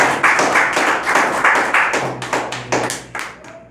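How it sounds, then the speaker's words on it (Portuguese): A church congregation claps during a Portuguese-language sermon, a run of sharp, evenly spaced hand claps in steady rhythm that are close and fairly loud, with no voice over them. "Dê uma salva de palmas ao Senhor."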